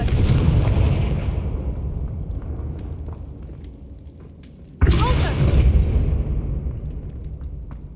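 Two heavy Confringo spell blasts in Hogwarts Legacy, a loud booming burst at the start and another sharp one midway, each followed by a rumbling decay and debris clatter.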